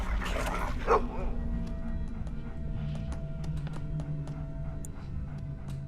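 A dog barks a few times in the Game of Thrones RPG video game, with short yips spread over a steady background hum of game music and ambience.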